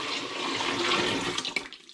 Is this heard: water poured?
yes